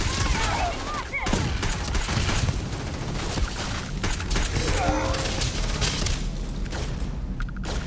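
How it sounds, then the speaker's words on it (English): Gunfire in Starfield: dense, rapid volleys of shots and booms rattle on loudly and almost without pause across the whole stretch, with bursts of automatic fire. "Taking fire!"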